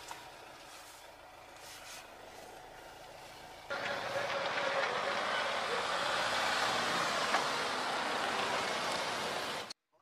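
A Mahindra Thar sets off at about four seconds, its broad, steady road and engine noise rising sharply and holding loud and close until it cuts out near the end, with a quieter idling hum before.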